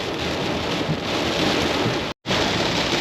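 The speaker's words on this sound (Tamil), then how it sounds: "பட் சடனாக மழை சும்மா வெளுத்து வாங்குறான்" Sudden heavy rain pounding down during a road trip to Varkala, a dense, loud, steady roar of rain, with a brief moment of silence partway through.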